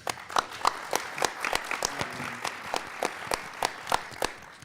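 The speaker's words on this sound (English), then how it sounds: "Let's give our teams one more round of applause" A school quiz show audience of middle schoolers and coaches claps in a steady, moderately distant round of applause, individual hand claps standing out in an even rhythm.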